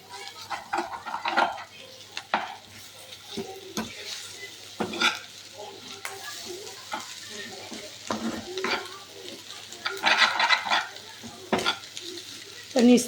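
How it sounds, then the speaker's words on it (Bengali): Food frying in a pan on a gas stove, stirred from the bottom so it does not stick: repeated scraping and clinking strokes over a low sizzle, close and uneven in rhythm, no voices. "নিচ থেকে একটু নাড়তে হবে যাতে লেগে না যায়।"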